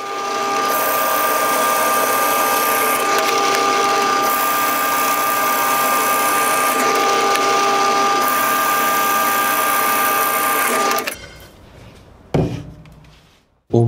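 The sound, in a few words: drilling wood with 15 mm Forstner bit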